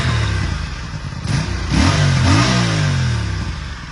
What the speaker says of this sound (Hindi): तो अब इसको थोड़ा रैप करके देखते हैं।